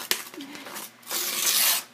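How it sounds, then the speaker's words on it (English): Paper ripped by hand, a quick close tearing sound after a small tap, lasting under a second. "Okay, I ripped it in the wrong spot."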